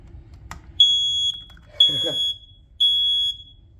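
Three loud, piercing smoke alarm beeps during a test, each a sustained high tone about half a second long at an even pace, with brief talk between the first two.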